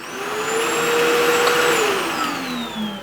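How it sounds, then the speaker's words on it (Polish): Milwaukee M18 FBPV cordless backpack vacuum cleaner running with a half-full canister, a loud steady close whine whose pitch rises then sweeps down near the end, alone without talk. "Co ciekawe, odkurzacz nie traci siły ciągu mimo zapełniania się tego zbiornika."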